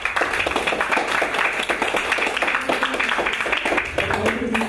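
An audience claps steadily to thank the actors after a performance. The applause is loud and sustained throughout, with a voice heard over it.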